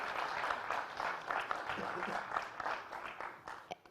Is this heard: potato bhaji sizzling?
no